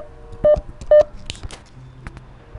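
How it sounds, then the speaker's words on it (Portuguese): Intercom phone keypad dialing gives two clear electronic tones in quick succession, followed by softer clicks and faint handling noise, close and loud. "Vou interfonar agora."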